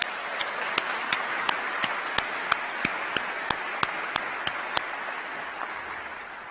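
An audience at a county executive inauguration applauds elected officials and county leaders, a steady wash of many hands clapping continuously for several seconds, with sharper individual claps standing out near the microphone.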